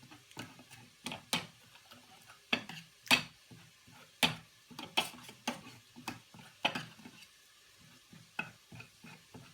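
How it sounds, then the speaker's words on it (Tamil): A ladle mashing boiled cooked food in a pot, irregular sharp knocks and scrapes of metal against the vessel, some louder than others, close up and alone. "பார்த்திங்கன்னா தெரியும், கரண்டியை கொண்டு மசிக்கிறேன்"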